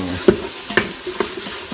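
A soft, steady sizzle of a broken cinnamon stick frying in a hot pan, with three light taps of a utensil against it.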